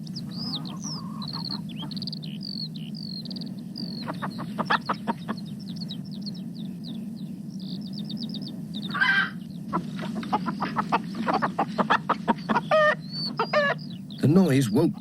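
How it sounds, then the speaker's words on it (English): Hens cluck and squawk in a series of short, bright calls that build into a busier flurry near the end, all over a soft, steady background hum. "But Mrs. Thompson's hens were wide awake"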